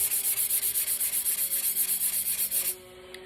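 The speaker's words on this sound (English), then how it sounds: "I don't sand a whole lot, but I do it at an angle." A tumbler is sanded by hand at an angle, giving a close, rhythmic rasping in about twenty quick even strokes, then stopping abruptly.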